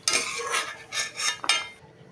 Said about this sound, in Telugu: ఇప్పుడు జీడిపప్పు అన్నీ బాగా వేయితేనే ఇప్పుడు ఇవన్నీ ఒక ప్లేట్లోకి తీసుకుందాం